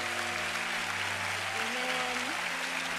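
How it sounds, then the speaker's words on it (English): A church congregation applauds a pastor and his son with dense, continuous clapping that stays loud and even throughout, while sustained musical tones hold and shift underneath. "shall we just give them a big round of applause?"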